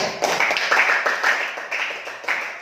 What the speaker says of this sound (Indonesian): boleh berikan aplaus bagi Niko